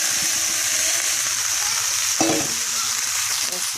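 Potatoes sizzle and fry in a clam chowder pot on medium-high heat, a loud steady hiss with a brief scrape of stirring partway through and no talking.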